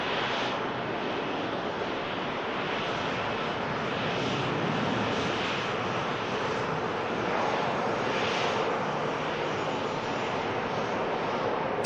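A fixed-wing aircraft on the move at Manchester Airport, a steady broadband jet roar that holds loud and even throughout with no voices.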